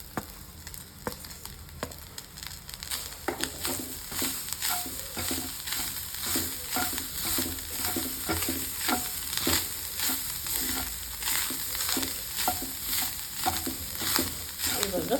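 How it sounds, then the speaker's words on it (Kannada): Grated coconut frying in a pan for turkey berry sambar, a steady low sizzle with regular scraping strokes of a spoon stirring throughout, close and moderately quiet, no talking. "ಈ ಟೈಮಲ್ಲಿ ತೆಂಗಿನಕಾಯಿನ ಸ್ವಲ್ಪ ಫ್ರೈ ಮಾಡಬೇಕು ಅನಿಸಿದ್ರೆ ಅದ್ರ ಜೊತೆ ಹಾಕಿ ಫ್ರೈ ಮಾಡಿ"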